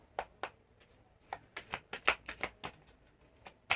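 Oracle cards being shuffled by hand: a run of sharp, papery slaps and riffles in an irregular rhythm, close and moderately loud, with no talking.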